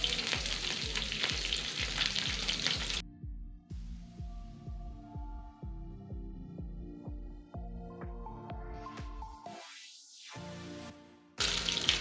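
Chicken pieces searing in a hot pan, a steady close sizzle and spatter with rhythmic pulsing knocks, briefly interrupted before the frying resumes loud.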